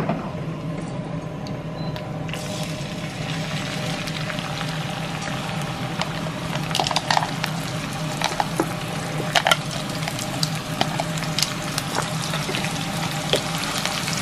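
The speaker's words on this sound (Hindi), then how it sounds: "इसको अच्छे से भूनते हैं।" Garlic and onion fry together in a pan, giving a steady sizzle with occasional crackles and spatters, close and even throughout with no speech.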